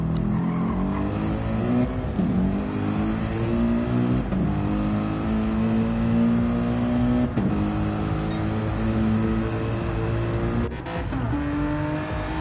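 A race car in a racing video game roars through a flying lap, its engine note climbing through the gears with several sharp shift dips and steady high revs, loud and continuous with no talk.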